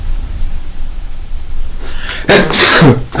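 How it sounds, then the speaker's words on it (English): A single sneeze bursts out loudly and close, with a sharp noisy release after a stretch of quiet room hiss and a brief trailing breath. "But I'm gonna sneeze right now, so incoming alert."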